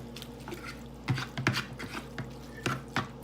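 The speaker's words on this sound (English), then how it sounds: "Just stir it up a little bit." Ramen noodles being stirred with their seasoning, giving soft wet clicks and slurpy liquid movements in an irregular rhythm, moderately close and fairly quiet, with no talking.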